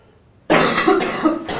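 After a moment of quiet, someone coughs loudly and close by: a rough, harsh burst followed by a second shorter cough.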